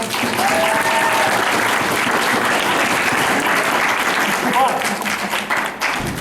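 Audience applause at a fan convention in Phoenix, a dense, loud and continuous burst of clapping from a large crowd filling the whole moment.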